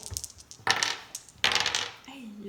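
Dice rattle and clatter onto a hard surface in two quick bursts, with small clicks before and a faint voice murmuring at the end.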